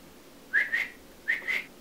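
Two pairs of short, clear two-note whistles, close by and fairly soft, separated by a brief pause, with no talking.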